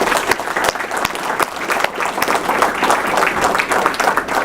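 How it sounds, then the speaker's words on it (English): An audience at a Davis County Extension ribbon-cutting event gives a steady, lively round of applause, many hands clapping close and loud throughout with a faint crowd murmur. "So let's give them a round of applause."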